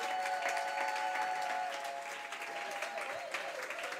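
An audience applauding to welcome Reverend Déborah Margaret at a church gathering, steady sustained clapping from many hands with a few louder bursts near the end.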